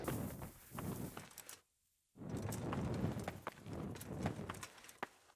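A horse gallops in the medieval video game Kingdom Come Deliverance, its rapid rhythmic hoofbeats continuing steadily, broken by one brief silent pause, fairly quiet overall.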